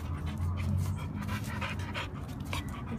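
A puppy at a county animal shelter pants steadily in quick, breathy rhythm, close and fairly loud throughout, with no talking.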